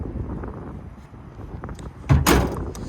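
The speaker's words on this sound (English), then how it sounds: "Then an easy let down tailgate." Tailgate of a 2026 Nissan Frontier PRO-4X dropping open outdoors, one short clunk and rattle near the end over light wind noise, with no talking.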